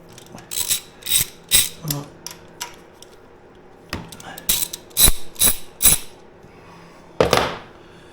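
Ratcheting clicks from a socket wrench tightening the coarse-thread oil drain bolt on a Royal Enfield Himalayan motorcycle, coming in short bursts of rapid ticks with pauses between, close by and fairly loud.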